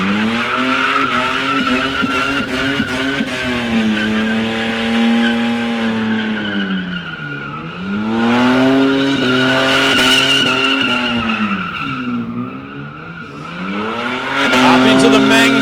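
An old V6 Holden Commodore doing a static burnout at a street drags event, engine holding a high wavering rev while the tyres squeal and skid continuously, loud and close, with commentary over the top.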